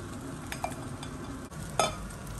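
Frittata batter with luncheon meat and cheese is stirred in a pan, with soft sizzling and a couple of brief utensil clicks against the pan.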